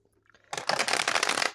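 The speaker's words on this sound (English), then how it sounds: "I just have to shuffle the cards here" Tarot cards riffled and shuffled by hand, a brief burst of rapid crisp flutter clicks about one second long, close and fairly loud after a few soft handling taps.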